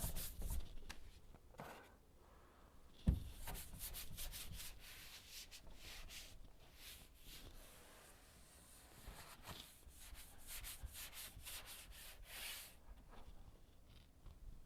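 Paint on a car being rubbed by hand in a garage, a close, soft, continuous scrubbing with rhythmic strokes and one brief knock early on.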